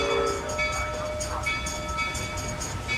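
A train rolls past with a steady low rumble, and sustained horn-like tones ring above it through the short stretch.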